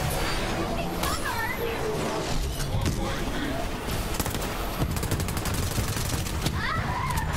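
Dense, rapid gunfire from the video game Borderlands 3, with bursts of automatic shots and crashing impacts layered continuously over busy game noise.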